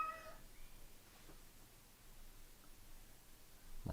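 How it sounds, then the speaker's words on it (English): A house cat meows briefly at the very start, faint and distant in the background, followed by quiet room tone with a soft rise at the end. "My cat is going crazy in the background."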